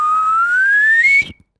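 A single clear whistled note rising slowly in pitch, held steadily for over a second before stopping abruptly with a faint breath.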